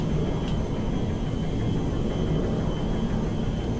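An Airbus A318 airliner flying in the video game GTA 5, a steady loud engine roar and rumble throughout with no breaks, no talking.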